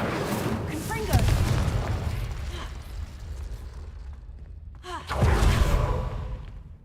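Two booming Confringo blast spells explode in Hogwarts Legacy, each a deep thud with a fading rumble, a few seconds apart while someone talks over them.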